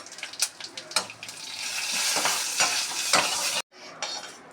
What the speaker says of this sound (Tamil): மணத்தக்காளி வத்தல் நல்லா ஃப்ரை பண்ணியாச்சு.